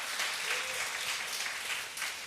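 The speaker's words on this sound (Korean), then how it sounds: "우리 세종이에게 박수 한번 쳐주세요." Clapping from a worship congregation fills the space during a Sunday service, dense and fairly close, sustained at an even level with slight swells and no talking on top.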